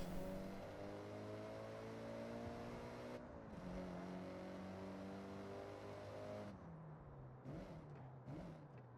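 Subaru WRX from the early 2000s driving in Forza Horizon, its engine a steady loud drone with shifting harmonic tones, brief gear changes and revving dips toward the end.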